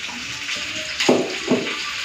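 Rohu fish belly pieces frying in a pan, a steady soft sizzle with two louder crackling bursts as pieces are moved or lifted out.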